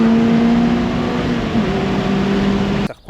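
A Honda CR-X with a VTEC engine revs loudly and steadily with a sustained engine tone, close up and alone, before cutting off abruptly near the end.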